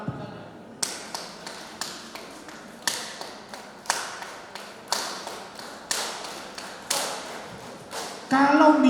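A steady 6/8 rhythm tapped out with no melody, about a dozen sharp, moderately loud taps in even grouped pulses, followed by a brief burst of other noise at the end.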